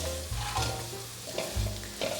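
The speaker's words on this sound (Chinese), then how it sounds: "把香菇炒香，大约略炒一下" Shiitake mushrooms stir-fry in a wok, with a close, steady sizzle broken by a few scraping strokes of the spatula against the pan.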